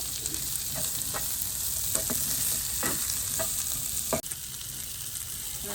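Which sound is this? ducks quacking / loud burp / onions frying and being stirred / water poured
onions frying and being stirred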